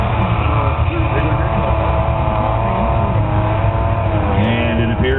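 Chevrolet S10 truck racing up a snowy hill at the Schuss Mountain snow challenge 2012, engine roaring at high, strained revs with shifting pitch throughout, loud and continuous, with a commentator talking over it.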